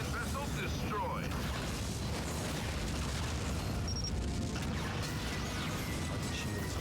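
Romulan vessel blowing apart in the 2006 space combat game Star Trek: Legacy, a heavy rumbling blast buried in a dense, continuous wall of loud battle noise and mechanical whirring that fills the whole stretch.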